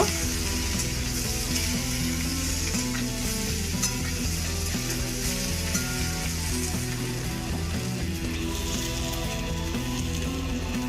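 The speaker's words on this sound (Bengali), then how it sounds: "এইভাবে নেড়ে চেড়ে আলুগুলোকে কিছুক্ষণের জন্য ভেজে নেব।" Potatoes stir-fried over a high flame in a pan give a loud, steady sizzle with the scrape and clatter of stirring, and no voices.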